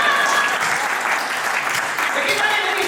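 Audience applause at a Hindi poetry recital (kavi sammelan), a dense, steady wash of many hands clapping close by for the full stretch, with a voice talking faintly underneath.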